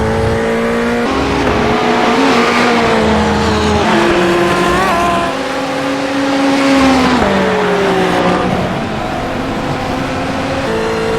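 Ferrari 488 race car in the iRacing sim at Road Atlanta, its engine droning loud and steady through the whole stretch, pitch rising and dropping with shifts and revs, with faint tire noise and no talk.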